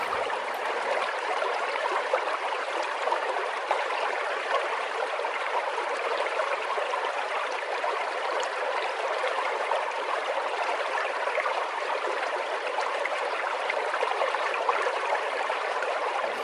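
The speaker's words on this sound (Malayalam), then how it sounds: "സ്വിമ്മിംഗ് പൂളിൻ്റെ അടുത്ത് തന്നെ മുകളിൽ നിന്ന് ഇങ്ങനെ വെള്ളത്തിലേക്ക് വന്ന് വീഴുന്ന ആ ഒരു ഇതുണ്ട്" Water pouring steadily from above into a swimming pool at a water park, a continuous even rush and splash that holds close and fairly loud throughout, with no voices over it.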